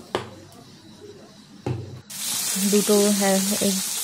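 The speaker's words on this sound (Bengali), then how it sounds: "আর এখন এই দুটো ভেজে নিচ্ছি।" Fish frying in a pan: a couple of sharp knocks, then a sudden loud, steady hiss of sizzling oil close by, with a tonal hum running underneath.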